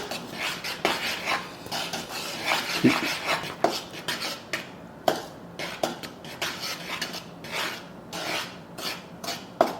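Salt is stirred into flour in a bowl with a utensil, giving a steady run of scraping, rasping strokes close by, with no talk.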